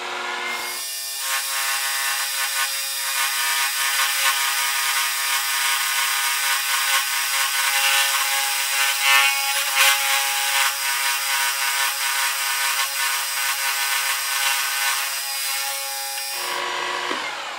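A portable bandsaw mill makes a hard-going milling cut through wood as a continuous, loud, grinding and rasping whine. It holds steady for around fifteen seconds with no talk, then stops.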